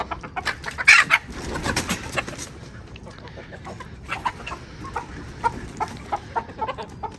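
Chickens cluck in short, repeated bursts nearby, with a louder squawk early on and scattered bird calls continuing throughout.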